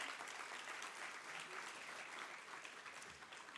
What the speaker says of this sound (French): Madame, vous pouvez les applaudir.